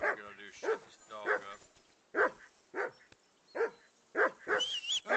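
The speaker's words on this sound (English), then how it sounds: "call off that dog and then we can talk" A dog in Kingdom Come Deliverance 2 barks in short, sharp bursts, roughly eight or nine yaps spaced unevenly, close and fairly loud, with a few whiny, higher yelps near the end.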